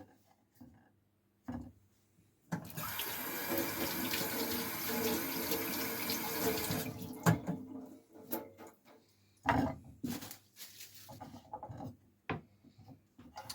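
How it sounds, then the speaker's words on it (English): Tap water runs loudly into a sink for about four seconds while vegetables and steak are washed, followed by short bursts of water, knocks and handling sounds in the kitchen. "So we're just going to go ahead and wash what we have here."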